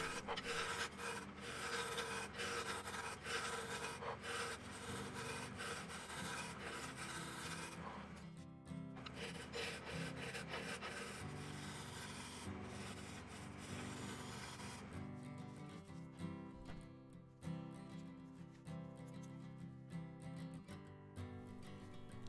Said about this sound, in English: I first start with a roughing gouge to remove the bulk of the material until I have a fairly consistent